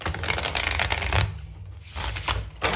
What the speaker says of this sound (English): I'm definitely not picking up on any anxiety at all as I'm shuffling.